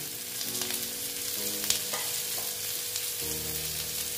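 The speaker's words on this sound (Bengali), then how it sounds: "দিয়ে এবার আবার এইগুলোকে ভালো মতন কষিয়ে নিচ্ছি।" Chopped tomatoes and green chillies sizzle and fry steadily in a pan for a dal posto dish, with occasional stirring clinks close by and no talking.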